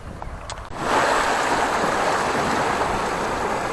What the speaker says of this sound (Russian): Море волнуется.